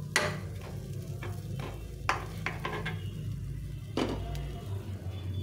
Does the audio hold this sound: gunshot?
no